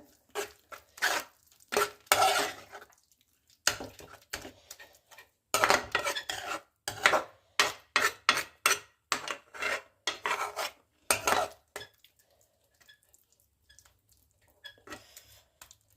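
A spoon repeatedly scraping and stirring curry in a metal pot, rhythmic rasping strokes in quick bursts with short pauses, close and fairly loud, tapering to sparse faint scrapes near the end, no voices.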